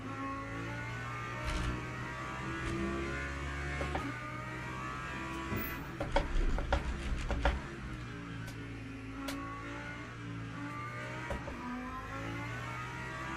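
A race car engine in the video game Le Mans Ultimate drones steadily at a low pitch, with a brief rise and flutter of revving midway before settling back to an even hum.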